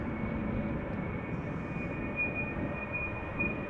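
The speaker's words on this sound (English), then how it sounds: "the next airplane is getting a bit closer by. A320neo from SAS." An SAS Airbus A320neo airliner approaches Amsterdam Schiphol Airport, a steady low engine rumble with a thin whine, fairly distant and continuous throughout.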